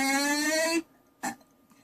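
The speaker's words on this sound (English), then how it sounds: "How dare you burp in channel?" A loud, drawn-out burp lasting almost a second, followed by a short second belch-like blip after a brief pause, with no talking in the clip.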